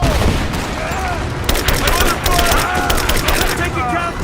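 Rapid gunfire bursts in the Rise of the Tomb Raider video game, loud and close, with repeated sharp shots over continuous battle noise and shouted voices.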